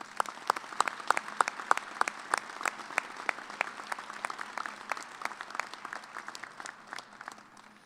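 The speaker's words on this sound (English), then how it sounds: "Please join me in a big round of applause for all of our graduates." At a Kansas State University graduate school commencement, the audience gives the graduates a round of applause, a fairly distant, thin ripple of sharp individual claps spreading across the hall.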